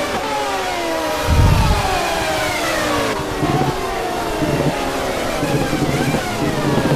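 A Porsche and a Mercedes race at Mosport, their engines revving with rising and falling pitch sweeps as they pass close by, with a heavy low thump near the start and a steady loud engine roar throughout.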